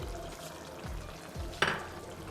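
Green chillies frying in a pan for a pomfret fish curry, a quiet continuous sizzle with a sharp stirring clatter midway.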